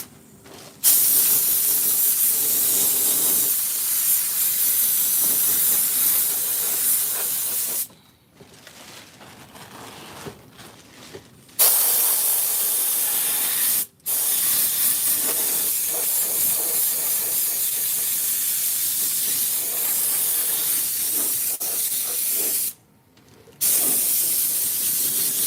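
Steady hiss of a sprayer applying material onto pillars with deep curves, loud and continuous for long stretches, broken by a few short pauses, with no talking.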